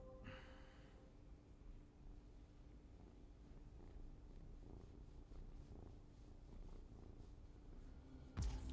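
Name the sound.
cat purring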